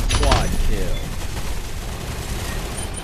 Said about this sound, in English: everyone in that hallway using a grenade launcher